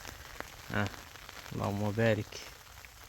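Heavy stormy rain falls steadily during a navel orange harvest, a constant patter running throughout while someone speaks briefly over it.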